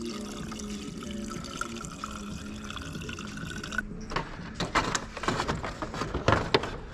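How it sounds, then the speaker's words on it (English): Coolant is poured to top off a BMW M54 engine's cooling system after a thermostat replacement: a steady background hum gives way to gurgling, splashing liquid that grows louder and more uneven toward the end. "I'm gonna top off the system with coolant."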